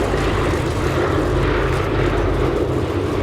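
A propeller-driven aircraft, apparently a bomber, makes a belly-side pass at Sywell Airshow, Sywell Aerodrome, a loud, sustained engine drone that fills the whole moment without a break.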